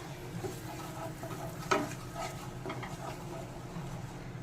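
Mustard paste gravy with water being stirred in a pan while cooking for a pomfret fish dish, a soft continuous scraping and bubbling with one sharper utensil knock partway through.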